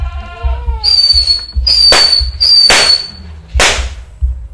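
Firecrackers and whistling fireworks lit in the ground during Ramadan, several rising whistles followed by sharp loud bangs and crackling bursts, one after another with short gaps, close and punchy.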